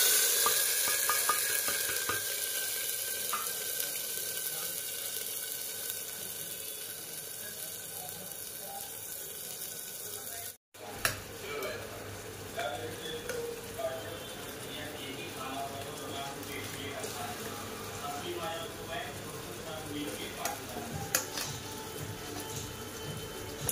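Onion and tomato paste, blended in a mixer, sizzles steadily in a hot pan while being stirred, with scraping and frying crackle running throughout and a voice talking at times over it.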